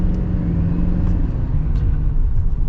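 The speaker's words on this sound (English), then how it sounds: "Let's get our acceleration here with this Chevy 3500 with the sport package." A 2021 Chevy Silverado 3500 LTZ Sport Edition pickup truck accelerating, heard from inside as a steady deep engine rumble and road noise, continuous and fairly loud with no talk.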